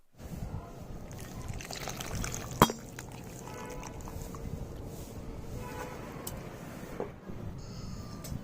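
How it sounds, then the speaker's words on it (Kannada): Tamarind water poured into a pot of boiling fish curry, a steady splashing pour over the bubbling simmer with a sharp clink near the start, heard close and fairly quiet. "ಈಗ ನಾವು ಹುಣಸೆ ಹಣ್ಣಿನ ನೀರನ್ನ ಸಹ ಸೇರಿಸ್ಕೊಳ್ಳೋಣ."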